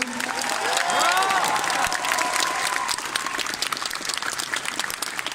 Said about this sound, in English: Let's give her a big round of applause, everyone